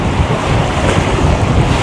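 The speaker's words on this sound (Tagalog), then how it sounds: "Sobrang lakas ng hangin dito" Strong wind roars across the microphone at the seashore while ocean waves break underneath, a loud continuous wash of noise with no break.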